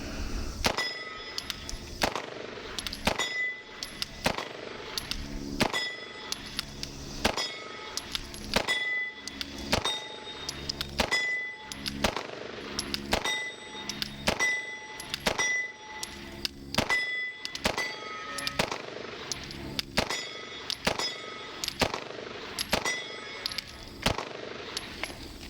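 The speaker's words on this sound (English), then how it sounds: "It's hard not to want to shoot this fast, as you can obviously see." A SIG P320 pistol fitted with a BC Gunworks JMB slide fires at an outdoor range in a long string of rapid, sharp reports, with shots landing roughly every second and ringing metallic clangs.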